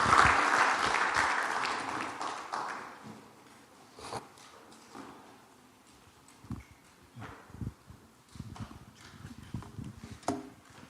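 A church congregation applauds in acclaim during a worship service. The clapping is loud and dense at first, then thins into scattered, fading claps with quieter stretches.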